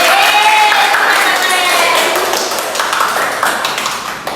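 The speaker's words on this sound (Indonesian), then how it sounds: "Tepuk tangan untuk semuanya dulu." Students clapping in a school classroom after group presentations, a burst of hand claps that starts loud and gradually thins out and fades, with voices chattering over it.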